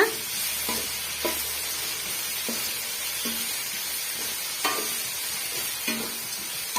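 Tomato and potato masala sautéing in a pan for potato rice: a steady close sizzle with repeated scraping strokes of a spoon against the pan every second or so, no voices.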